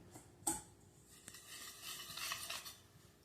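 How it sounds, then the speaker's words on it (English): Chocolate cake batter ingredients whisked together in a bowl, a light scraping, swishing stir with a sharp clink of the whisk against the side near the start, then steady soft mixing with no one talking. "I'm going to whisk that all together."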